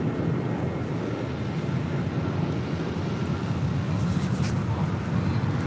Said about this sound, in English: That was American Airlines Flight 1639 heading to Dallas-Fort Worth, Texas in an A321